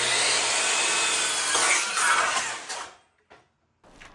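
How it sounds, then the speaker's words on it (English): A saw rips through a 1x8 wooden board with a loud, continuous rasping cut that ends abruptly, followed by brief scraping handling sounds. "The first thing I'm gonna do is cut two 11-inch boards out of this 1x8."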